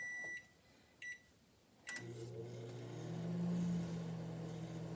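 A microwave oven melting rice crispy treats gives a couple of short beeps and a door or button click, then starts into a steady droning hum that holds to the end.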